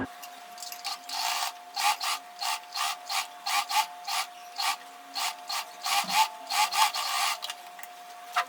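Sewing machine stitching lunch box bag fabric along one edge, a steady series of short mechanical runs with brief pauses between bursts, close and clear with no talking.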